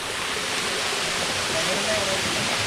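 Pattathippara waterfall at Pananchery, Thrissur, gives off a constant broad roar of rushing water, steady and close, filling the whole moment without a break.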